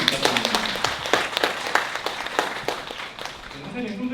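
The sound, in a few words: audience applause for the moderator at a meeting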